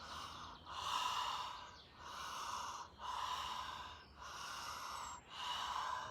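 Slow, deep meditative breaths alternate in and out through the nose, audible and close, each breath lasting about a second with brief pauses between, and no talking.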